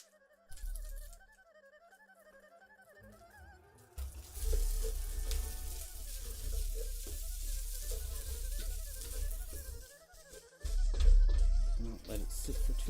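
Kimchi and rice frying in a pan, a steady crackling sizzle that swells up and carries on, over warbling background music with occasional stirring scrapes.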